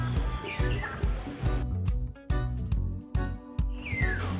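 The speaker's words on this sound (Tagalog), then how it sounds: "Dalawang uring ibon ang ating maririnig. Yung isa yung tinatawag na kuro-kuro, at yung iba naman ay tinatawag yung kiyaw, at iba pang uri ng ibon." Several birds call outdoors among fruit trees such as mabulo, rambutan and cacao, including the kuro-kuro and the kiyaw, with repeated chirps and whistled notes over a steady low hum.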